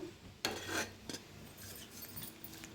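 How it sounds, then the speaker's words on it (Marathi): Fried fenugreek being stirred into a garlic mixture in a pan: a few quiet clinks and scrapes of a utensil against metal, soft and close, with a faint background hiss. "आता ह्याच्यात मिक्स करायची आहे मेथी जी आपण"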